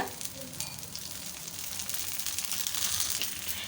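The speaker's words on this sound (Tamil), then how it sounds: "இப்போ நம்ம சுற்றி எண்ணெய் விட்டுறலாம் இந்த சைடு நல்லா ரெடி ஆகட்டும்" A rice flake dosa sizzles in oil on a pan over low to medium flame, a close, steady crackling hiss that grows slightly louder, with no speech.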